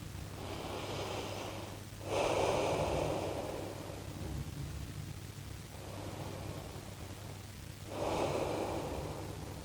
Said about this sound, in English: Keep the breathing deep.